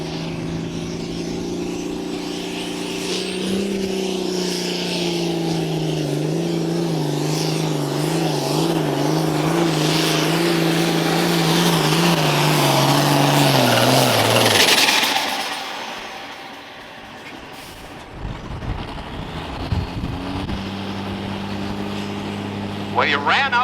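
A farm tractor roars down the track during a hot farm class tractor pull, its engine loud and sustained with rising and falling pitch before power suddenly drops off and the engine winds down, with an announcer talking over it.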